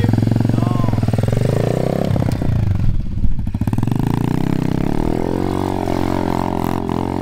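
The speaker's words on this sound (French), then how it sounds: "Martin, fais-nous un petit burn là pour voir s'il y a gaz de la moto en première" A motorcycle revs hard in first gear during a burnout, its engine roaring loud and close with a dense, sustained snarl and a few sharper pulses midway, while people talk over it.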